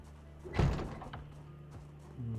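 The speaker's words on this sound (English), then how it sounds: "Let's close the door." A car door shuts with a single solid thunk in the video game Project Zomboid, followed by faint clicks and a low engine-like hum in the background.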